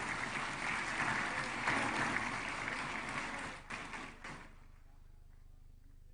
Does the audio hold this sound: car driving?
no